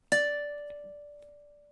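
A single ukulele note or chord from a tune's ending plucked once, sharp attack then a long clean ring that fades slowly, with a couple of faint small taps behind it.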